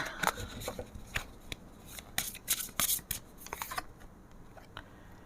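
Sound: shuffling and drawing tarot cards

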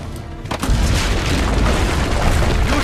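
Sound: cannon fire from the ramparts in Assassin's Creed Brotherhood video game

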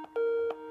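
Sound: telephone ringing

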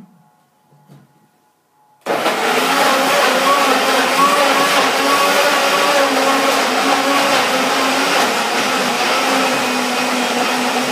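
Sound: blender blending apples

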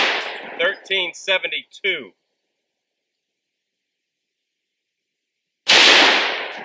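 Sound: 45 Super 200 grain hardcast lead gunshots at a range

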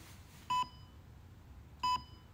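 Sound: electronic beeping

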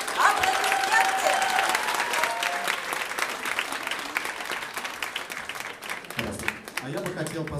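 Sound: festival audience stormy applause

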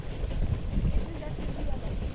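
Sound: boat ride on lake

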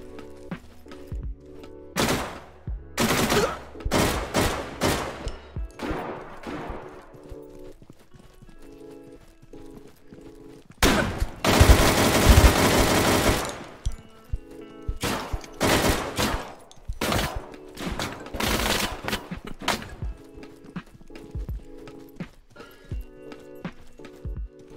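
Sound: video game gunfire from a bullpup AK rifle

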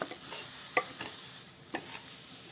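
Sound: dry roasting red poha in a pan without oil

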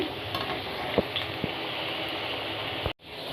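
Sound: potatoes frying in oil for fish curry

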